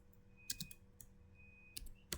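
Quiet keystrokes on a computer keyboard arrive in a few sparse, separate clicks and short clusters, close and faint, with no talk.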